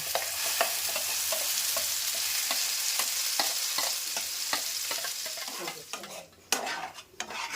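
Singara filling stirred in ghee in a pan over a lowered gas flame, a steady sizzle broken by regular scraping spoon strokes, with a few louder clanks near the end.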